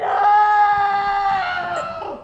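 A person screams into a pillow: one long, loud, wavering cry that holds for about two seconds, then tails off and fades.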